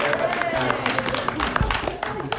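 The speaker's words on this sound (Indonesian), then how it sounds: "Tepuk tangan." Clapping from an audience at a Q&A session, ragged and moderately loud, with voices talking underneath.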